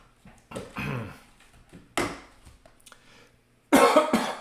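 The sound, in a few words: cough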